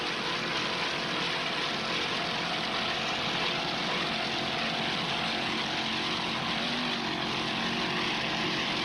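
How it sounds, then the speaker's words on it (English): Blue Thunder engines on an offshore racing powerboat in the 1995 Key West World Championships give a loud, constant, broadband roar that runs steadily throughout with no pauses. "Blue Thunder Engines doing their job."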